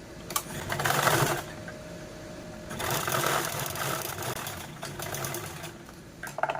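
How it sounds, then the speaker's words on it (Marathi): Sewing machine stitching the handle of a fabric bag made from saree border cloth, with close mechanical whirring in several short runs separated by quieter pauses. "मी हँडलच्या दुसऱ्या साईडने पण टीप मारून घेत आहे"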